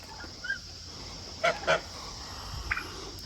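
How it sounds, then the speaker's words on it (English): Geese honk nearby outdoors, a few short nasal calls spaced across a quiet background, with a louder pair of honks in the middle and a faint thump near the end. "geese are sneaking up behind you"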